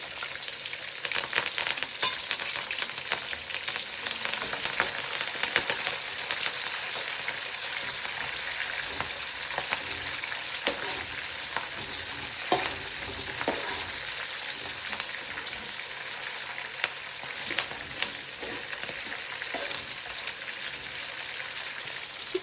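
Green chillies and curry leaves fry in hot oil for akki thari uppittu, a dense, continuous crackling sizzle with occasional pops and stirring clinks, steady and fairly close throughout.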